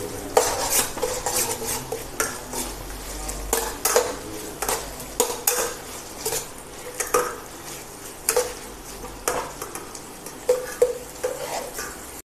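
Ginger, garlic and onion fry in a pan on medium flame, a soft sizzle under repeated close scrapes and clinks of a spoon stirring against the pan in an irregular rhythm, with no talking.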